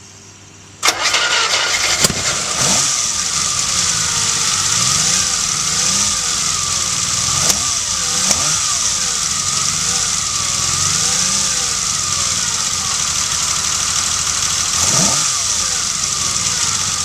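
A Ferrari Ellena with triple dual-throat Weber carburetors cranks and catches, then settles into a loud, steady idle with a few brief blips of revving close to the microphone.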